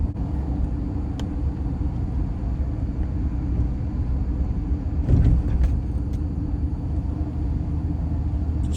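Car driving through New Orleans city streets on a Saturday night, a steady low engine and road rumble heard from inside, with a brief bump or clatter midway.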